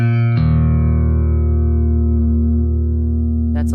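A bass guitar run through the Waves Kaleidoscope plug-in for a post-punk tone holds a sustained note with a subtle modulated shimmer, after a brief opening note, then a new attack at the very end.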